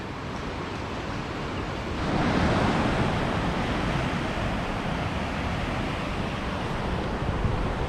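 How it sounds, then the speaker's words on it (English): Waves break and wash on Patong Beach at its northern, airport end, a steady broad roar of surf that swells slightly louder after a couple of seconds and continues alone without voices. "So I'm right down the end of Patong Beach now, at the northern end, at the airport end."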